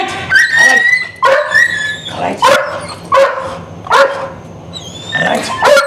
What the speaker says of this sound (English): I'm gonna send my dog in! You're gonna get bit!